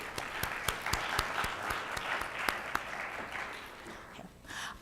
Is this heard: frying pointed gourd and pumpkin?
no